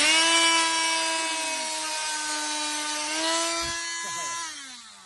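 Tops of epoxied wooden plugs on a Colvic Watson 35 boat are cut off with a power tool, which gives a steady, loud, high whining buzz for about five seconds and trails off near the end.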